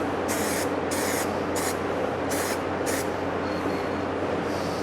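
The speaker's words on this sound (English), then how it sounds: "I'm going to put a clear coat over it." Clear coat sprayed from an aerosol can onto a silver car wheel in short bursts, five hissing sprays over a steady background hum, close and loud.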